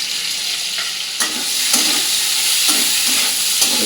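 Chopped onion and pointed gourd frying in hot oil in a pan, a constant loud sizzle broken by regular stirring scrapes that come roughly every half second, close by with no voices.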